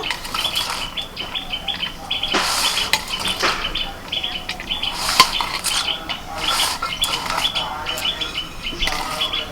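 Cooked rice being mixed with crispy fried onions in a pot for bamboo biryani, giving repeated close scraping and clinking of a spoon against the pot, with soft rustling between the strokes.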